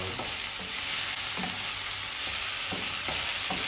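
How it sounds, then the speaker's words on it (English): Onions for corned beef with potatoes saute in a little oil in a pan, giving a steady hissing sizzle broken by regular scraping stir strokes. "Let the onions saute for a bit."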